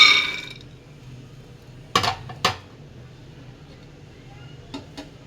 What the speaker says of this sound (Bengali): একটা কড়াই গরম করে বাদামগুলো দিয়ে দিচ্ছি